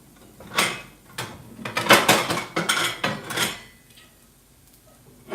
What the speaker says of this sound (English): Now we are going to, we're going to get a plate.